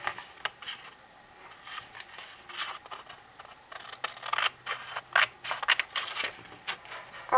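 Scissors snip around a small piece of cardboard for a handmade Valentine's tag, sounding as a close series of short, irregular crisp cuts and scrapes.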